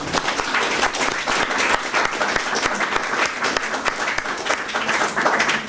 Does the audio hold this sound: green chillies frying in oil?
no